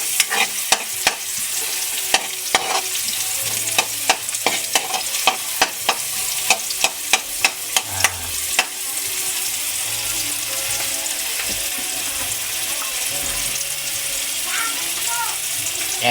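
Onion and garlic sautéing in a pan for lumpiang Shanghai, a steady close sizzle with a rapid run of utensil clacks early on, then a smoother hiss; a voice talks briefly over it.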